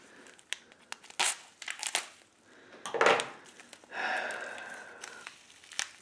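Plastic MRE ration pouch from a Daff salmon stew and vegetables meal being cut open, with close, dry crinkling and crackling bursts and short tearing rustles, no talk.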